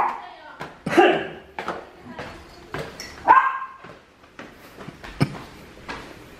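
Dogs bark and yip in short bursts amid people talking nearby, with a voice and some whimpering mixed in.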